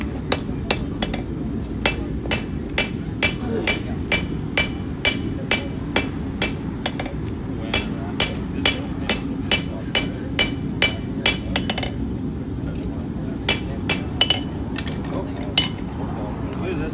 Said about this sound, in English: Break out the small hammer.